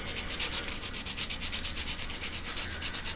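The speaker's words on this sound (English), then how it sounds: "you just sand that down just a little bit" A small toy peg for a Transformers Encore G1 Thundercracker figure is sanded by hand, giving a close, steady rhythmic scraping of quick back-and-forth strokes with no voices.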